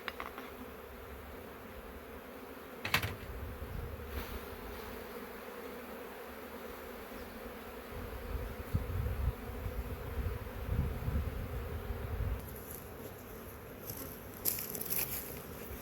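Honeybees buzzing around an open hive during a late April inspection and split, a steady close hum with occasional crunching and scraping of frames and a brief sharp knock.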